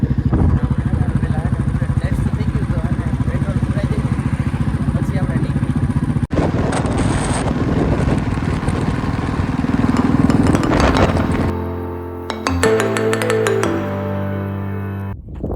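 A Royal Enfield Bullet motorcycle engine runs steadily and loudly up close while riding, with clattering and a shift in tone near the end.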